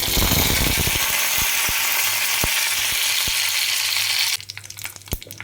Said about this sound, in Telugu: ఇలా మెంతులు, ఆవాలు వేయిస్తూ 2 ఎండుమిరపకాయలు వేయాలి